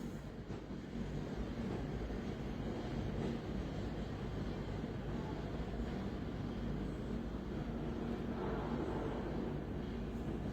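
An Apollo carmix concrete mixer's engine idles at slow RPM, a steady low rumbling drone that holds at an even level throughout with no speech.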